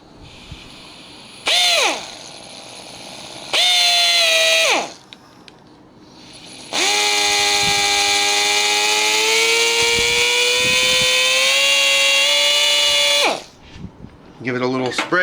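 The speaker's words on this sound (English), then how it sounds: "We're going to go ahead and start drilling now and see how it goes through this Dorman bolt." A low-speed power drill whines in loud bursts boring through a Dorman bolt, first two short runs, then a long sustained drilling stretch, winding down before quieter clicks at the end.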